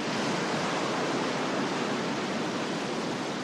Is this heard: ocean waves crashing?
yes